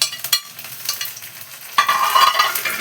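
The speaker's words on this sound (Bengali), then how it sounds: "বেশ খানিকটা পেঁয়াজ কুচি দিয়ে দিচ্ছি।" Chopped onion and tomato hit hot fat in a pan, with a few sharp clatters of stirring followed by a louder, steady frying sizzle that swells toward the end, with no voices.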